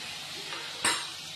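Hot water poured into frying masala for an egg curry, a sudden loud hiss that rises sharply and then fades over a quiet pan background, no talk.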